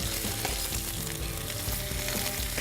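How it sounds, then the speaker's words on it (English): Peppers and onions sizzle loudly on a hot FireDisc griddle, a dense, crackling fry that holds steady throughout. "As you can hear the sizzle, it gets hot real quick."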